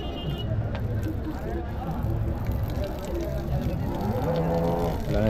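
Large draught cattle moo at the busy Uthangarai weekly cattle market, deep lowing calls under constant crowd babble and someone speaking close by.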